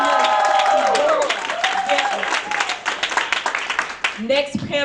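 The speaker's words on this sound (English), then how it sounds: "Y'all come on and give a round of applause" Audience claps for a panelist at an evening panel event, the applause starting under a speaker's voice and fading as talk resumes at the end.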